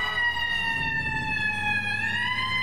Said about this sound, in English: It's got a crazy loud horn.